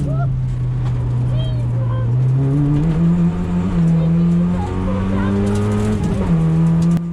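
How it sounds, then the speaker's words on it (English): A Toyota Yaris race car is driven hard around the Blyton Park track, its engine droning loudly and steadily from inside the cabin as the pitch rises and shifts between gears. "I am nicely pushing the Yaris"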